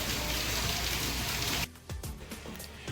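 Monsoon rain pours down in a loud, dense hiss, then abruptly gives way to quieter scattered drips and splashes on a surface.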